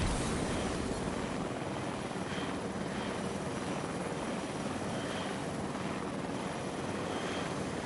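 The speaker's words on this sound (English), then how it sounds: "So I see the helicopter that takes off." A video game helicopter taking off makes a continuous loud rotor and engine drone that fills the whole stretch, steady and close with no talking.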